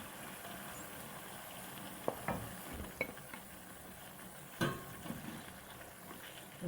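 Minced meat (qeema) sizzles in a pan with cooked onions and spices. The frying hiss is soft and steady, and a few faint clinks and scrapes of stirring break through it.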